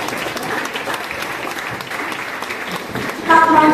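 Applause at a primary school graduation ceremony, a steady wash of many hands clapping in a hall, with a brief ringing musical tone at the very end.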